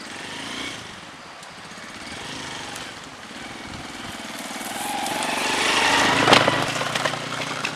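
A motorcycle engine runs at a bushcraft campsite, a steady mid-distance drone that grows louder toward the end.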